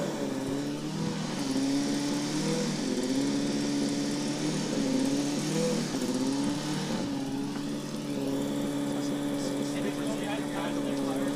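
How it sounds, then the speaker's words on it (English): A combustion race car running a driverless trackdrive at a Formula Student event, its engine a loud, continuous revving drone that rises and falls in pitch as it laps, with a voice faintly present underneath. "this might be the last time we are hearing a combustion car do the driverless track drive"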